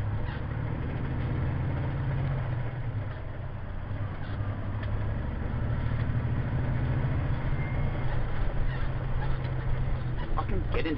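A truck with a troublesome Meritor transmission rumbles steadily from inside the cab, its deep engine drone continuous and loud, with small rattles and squeaks throughout.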